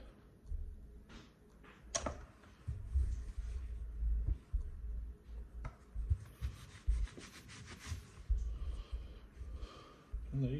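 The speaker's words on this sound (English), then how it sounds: "Wipe off a little bit of that excess" Cloth or fingers rubbing excess lube off a 1911 pistol after cleaning, heard as soft, close, irregular scrubbing and handling noises with a few small clicks, quiet throughout.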